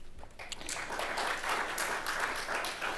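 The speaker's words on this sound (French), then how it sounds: "ça doit s'applaudir" Crowd applause at a formal ceremony, a dense, steady wash of many hands clapping that builds over the first second and continues evenly, moderately faint.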